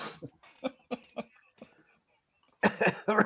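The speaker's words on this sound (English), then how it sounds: "sorry, coughing there" Quiet, choppy vocal sounds give way to a short cluster of harsh, close coughs near the end.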